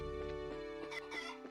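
Chickens cluck in the video game Trails in the Sky SC, a quick run of short, soft clucks that sits faintly over steady game music with no voices.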